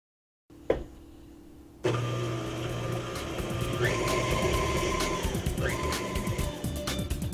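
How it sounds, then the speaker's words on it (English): Electric hand mixer whirs through pumpkin bread batter at medium speed, starting with a click and a short burst, then running as a continuous motor drone with slight pitch shifts as the beaters move through the mix. "We'll mix the batter at a medium speed until smooth."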